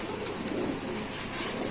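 Pigeons at a Bengali pigeon market with pairs for sale, cooing steadily and densely over a noisy, crowded background with no pause.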